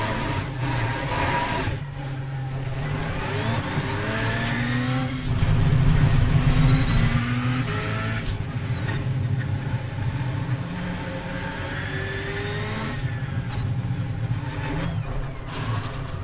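A Ford Fiesta RS WRC rallycross car's engine in the iRacing simulator at Barcelona, loud and close, revving and shifting up through gears with rising whines, a brief heavy rumble midway, and no talk.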